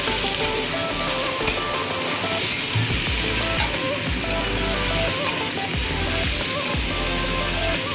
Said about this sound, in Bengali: চিকেনটা মোটামুটি এবার পেঁয়াজের সাথে ভাজা করে নিলাম